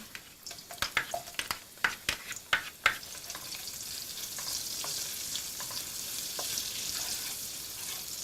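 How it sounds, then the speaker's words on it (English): Onions and prawn stock hitting hot lard in a pan for Malaysian pak choy with prawn: a run of sharp clattering stirs and scrapes up front, then a steady loud sizzle and hiss with occasional utensil knocks. "you drop in your onions and your prawn stock"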